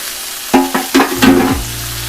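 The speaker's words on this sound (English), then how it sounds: "going in with my steak. And of course, that's what you want to hear." A ribeye steak is laid into a hot cast iron pan with avocado oil, setting off a sudden loud sear. Several sharp bursts of sizzle follow as the meat settles, then a steady hiss holds close by.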